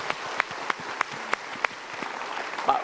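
Light audience applause at a motivational talk show, a steady patter of clapping with a few sharper claps standing out at a regular pace, moderately close and fairly quiet.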